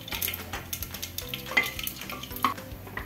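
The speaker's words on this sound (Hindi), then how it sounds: "तो तेल अच्छे से गर्म हुआ, उसी में 1 टीस्पून राई डालना है। अभी उसके साथ 2 लाल मिर्च डालना है" Mustard seeds and two red chilies sizzle and crackle in well-heated oil, a steady loud frying hiss with scattered pops and light clatter of a spoon against the pan, no voices.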